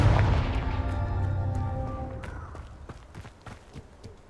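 A Confringo blasting spell cast in the Hogwarts Legacy video game: a bright tonal swell gives way to a series of sharp explosive bursts and thuds, loud and close, with no talk.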